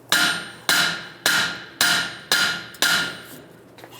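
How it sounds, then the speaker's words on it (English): A hammer strikes the steering knuckle of a 1998-2010 Volkswagen Beetle six times at an even pace, each sharp metallic clang ringing briefly, close and loud. "tap it down."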